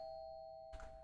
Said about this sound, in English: You just broke the door and you're ringing the doorbell?